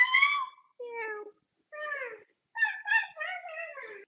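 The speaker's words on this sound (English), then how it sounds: "we have a cat among us" A cat meows several times in a row, close and fairly loud, with varied rising and falling calls separated by short pauses, indoors.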